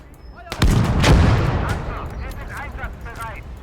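Gunfire and artillery blasts from the war video game Kampfgruppe, a loud burst of shots and booms swelling near the start, then lingering rumble and scattered lighter reports as the battle continues.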